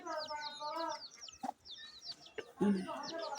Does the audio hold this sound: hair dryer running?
no